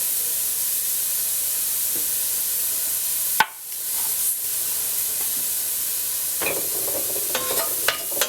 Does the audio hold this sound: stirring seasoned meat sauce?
yes